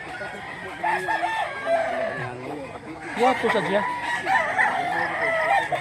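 A rooster at a roadside fowl sale in Mantalungon, Cebu, crows in a few drawn-out calls alongside clucking from nearby birds, close and fairly loud, with people talking over it.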